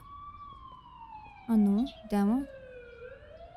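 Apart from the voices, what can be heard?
ambulance siren in video game The Coma: Recut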